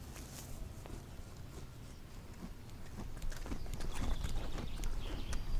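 Hooves of plains zebras clip-clop on hard ground in an uneven walking rhythm, growing slightly louder toward the end, with a faint whinny-like call early on and open outdoor ambience.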